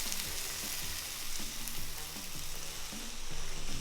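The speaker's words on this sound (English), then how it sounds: "All right, now they're sizzling." Vietnamese chicken meatballs sizzle and fry in a pan, a steady close crackling hiss with faint stirring taps, no voices.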